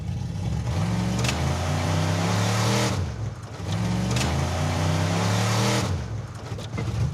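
A Mazda car engine revving hard on launch, loud and close, holding a high steady roar in two long pulls separated by a brief dip.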